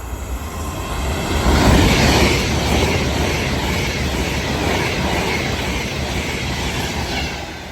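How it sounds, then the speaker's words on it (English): A Class 390 Pendolino electric train bound for Liverpool Lime Street passes through Watford Junction on the West Coast Main Line, a loud sustained rush of wheels and wind that swells near the start and stays steady throughout, with no talk. "And also about to pass by now is going to be a Class 390 Pendolino"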